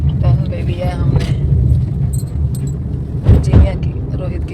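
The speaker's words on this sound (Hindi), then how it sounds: "जा रही है हमारी गाड़ी आगे" A car moving along Hoshiarpur road, heard from inside as a steady low engine and road rumble with people talking over it throughout and a brief jangling or bumping around the middle.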